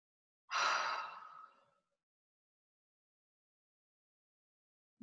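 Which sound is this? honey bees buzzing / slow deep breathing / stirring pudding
slow deep breathing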